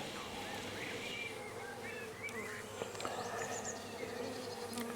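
Honey bees buzz steadily over a hive frame during a farm beekeeping inspection, a close, continuous drone with faint outdoor background and brief quiet voices.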